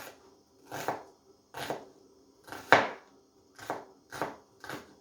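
A knife chops through cooked beef tongue on a board in seven separate, evenly spaced strikes, each a crisp close thud with silence between.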